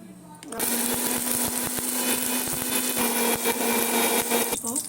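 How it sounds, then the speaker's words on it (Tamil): A mixer grinder whirs loudly and steadily as it grinds cooled roasted peanuts for a spicy chutney, starting abruptly after a quiet moment and stopping right at the end. "இப்போ இதை ஆற வச்சு நல்லா அரைச்சிடணும் இது இப்படி ஆன் பண்ணி"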